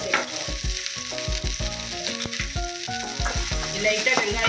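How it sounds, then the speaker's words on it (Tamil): Onion sautés in a pan with a steady hiss of frying beneath louder background music throughout. "லைட்டாக வெங்காயம் வதங்கட்டும்"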